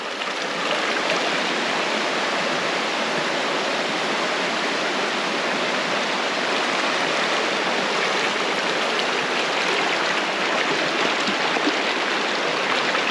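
A river rushes steadily past a rainy campsite, its close, dense broadband flow unbroken for the whole stretch with no voices over it.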